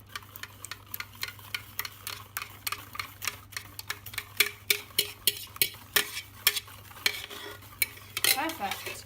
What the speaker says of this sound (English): I'm going to whisk this as it goes in